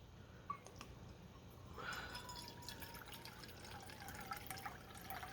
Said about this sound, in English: So it's 3 cups of water and a half a cup of brandy.